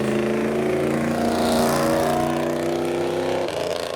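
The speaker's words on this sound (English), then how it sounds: "We now have a very pink and very low Lexus IS." A very pink, lowered Lexus IS drives past at a Japanese car meet in Reading, its engine a steady, fairly loud hum that swells slightly midway and holds close by.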